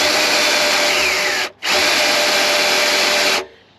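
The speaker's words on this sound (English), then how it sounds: "listen to the drill. It's doing it so much easier" A power drill turning over a Chevy 327 engine whirs loudly and steadily, cuts out for a brief moment, then spins up again and runs for about two more seconds before stopping.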